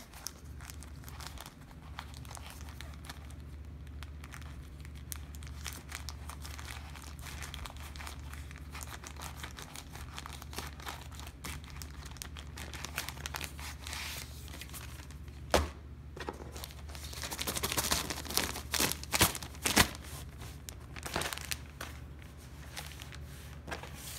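Plastic Ziploc-type packaging from an Open Benchtable rev1.1B unboxing is handled steadily up close, with soft continuous crinkling and crumpling that grows louder and sharper in bursts near the end; no talking.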